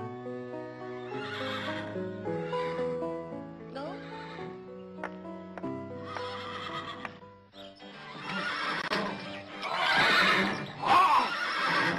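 A horse neighs and whinnies repeatedly, the calls ringing out clearly at close range, followed by louder, busier stretches of hoof clatter and movement as the animal stirs and clops about.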